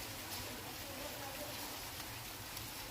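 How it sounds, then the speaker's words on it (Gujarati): Heavy rain pours down outdoors in a village, a dense, steady hiss that fills the whole scene evenly at a moderate distance, with no breaks or separate drops standing out. "જોરદાર વરસાદ છે આ જો"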